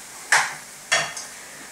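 Onions and habanero pepper frying in a pan are stirred in two quick scraping strokes over a low sizzle, with a lighter touch just after the second.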